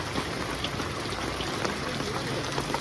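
The Venu river in flood after a night of rain flows hard past, a steady, broad rush of water that carries on without pause and seems fairly close, with no voices.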